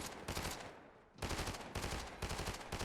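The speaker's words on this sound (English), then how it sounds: "I hear gunshots." Gunfire in the Fortnite video game, loud rapid bursts of shots in two long volleys separated by a brief quieter gap, with no talking.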